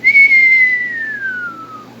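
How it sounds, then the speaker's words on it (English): A single whistle blown as a homemade sound effect for an Among Us game, one clear sustained tone that slides slowly downward over about two seconds, loud and close with nothing else around it. "Okay, I got my whistle ready."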